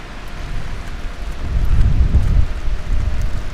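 Wind gusts and rain roar on a New York street during a Sunday evening mix of rain and snow, a steady broadband rush that swells loudest in the middle and buffets close to the microphone, with no talking.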